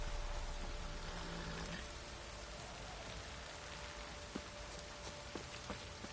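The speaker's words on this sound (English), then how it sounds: "Looks like rain." Rain falls steadily in The Witcher 3, a soft, even hiss of drops with a few faint clicks and a quiet low hum beneath, distant and unbroken throughout.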